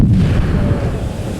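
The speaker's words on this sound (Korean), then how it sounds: "정적을 깨는 폭발음과 함께 얼어붙은 하천엔 순식간에 물길이 열립니다" Military engineers' TNT charge blasts open a frozen river for armored vehicles, a loud, close boom with a heavy low rumble that fills the short span and stays dense throughout.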